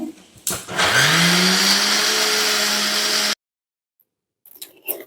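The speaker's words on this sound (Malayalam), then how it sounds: "തേങ്ങ ചെറിയ നന്നായി അരച്ചെടുക്കട്ടെ" A kitchen mixer grinder whirs loudly and steadily while grinding coconut with curd, shallots and cumin, running close for a couple of seconds before cutting off into silence.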